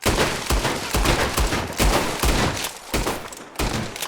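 Rapid, loud gunfire from weapons in Red Dead Redemption 2, roughly eight to nine sharp shots spaced about half a second apart in a steady rhythm, with no talking.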